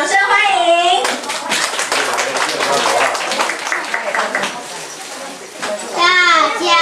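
Clapping from an audience welcoming a storytelling performance, a dense burst of claps between a voice at the start and at the end, loud and close.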